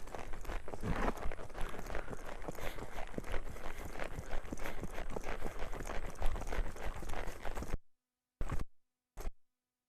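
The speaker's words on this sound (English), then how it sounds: "I'm letting long trot here, really cover ground" A horse at a long trot covering ground in an arena, its hooves clip-clopping in a quick, steady rhythm and close, then cutting out abruptly near the end, followed by two short bursts.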